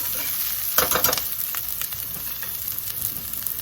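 Vegetables are stirred in a hot pan as they fry until transparent for a chicken and pan sauce, a steady close sizzle with a few scraping stirs of the spoon and no talk.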